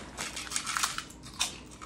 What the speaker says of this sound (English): if you've ever had a pork rind before, you'll know they are very crunchy and loud